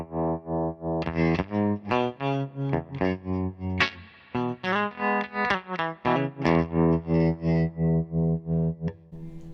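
Guitar amp modulation effect on a Harmony H650 amp, set to slow speed with high depth, giving a clean electric guitar a steady wavering pulse across repeated strummed chords, played alone without talk.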